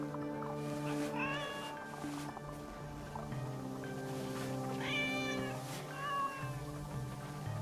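A cat meows several times in Assassin's Creed Shadows, rising, wavering calls standing out close and clear over steady game music and ambience.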